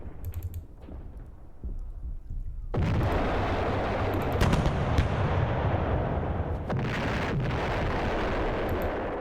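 Artillery bombardment in the Panzer Campaigns Kiev '43 wargame, a sudden heavy boom that swells into a sustained rumbling roar of distant shelling, with faint clicks over the low din.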